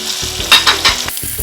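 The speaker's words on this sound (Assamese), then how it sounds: "এতিয়া ধুনীয়াকৈ নভঙাকৈ মাছখিনি ভাজিব পাৰিছোঁ" Close-up sizzling of fish frying in hot oil, crackling steadily with a few louder bursts of spatter.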